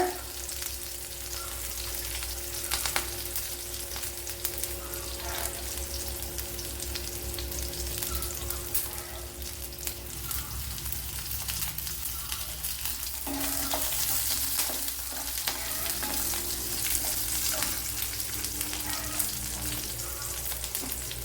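Dried red chillies fry in hot oil for a Kerala-style ash gourd stir-fry, making a long, even crackling sizzle close up with a faint steady hum underneath and no speech.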